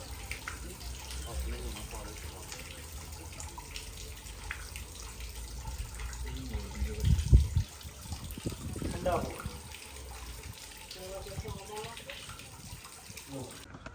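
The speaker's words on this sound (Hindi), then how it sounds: "तस्मीर भाई वज़ू कर रहे हैं" Water runs steadily from a tap or spring at a shrine while someone performs ablution, with a low, continuous splashing and a brief louder burst midway and voices talking softly over it.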